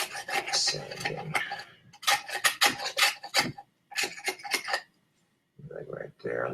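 Sandpaper rubbed by hand over five small nubs on a piece of wood with bark left near a hole, making bursts of dry rasping strokes in quick rhythmic groups with short pauses between.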